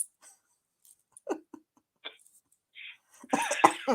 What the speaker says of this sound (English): you're making me cough from here.